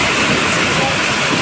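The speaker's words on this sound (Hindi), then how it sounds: "कितनी तेज़ बारिश आने लगी" Heavy rain pours down steadily and loudly during a Janmashtami family outing, a dense unbroken hiss that fills the whole clip.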